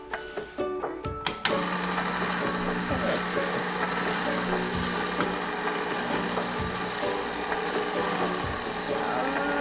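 An ice cream machine churns strawberry ice cream mix, starting with a few clicks and clunks, then settling into a steady, loud mechanical whir that runs without a break.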